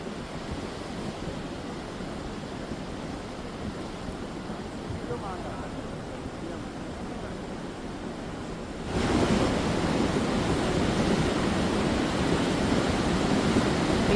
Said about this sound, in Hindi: तेजी के साथ पानी का ये बहाव मलबा को लिए हुए